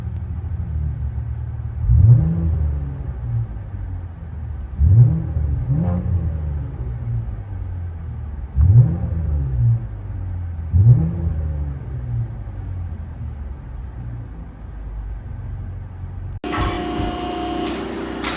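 A deep 2015 Chevy Impala V6 with dual straight-pipe exhaust idles with a low rumble and is repeatedly blipped into short throaty revs, heard from inside, ending in a sudden burst of noise.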